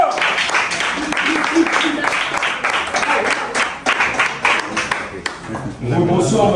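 Audience applauding a contestant at a fashion competition final in Pointe-Noire, Congo, a dense burst of clapping that continues under a presenter talking loudly.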